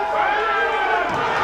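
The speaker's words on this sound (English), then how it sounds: "Can you hear the cheer from the spectators?" Spectators at an under-19 boys' African Nations volleyball championship match between Gambia and Nigeria roar in a loud, sustained crowd cheer filling the whole moment, with a commentator's voice mixed in.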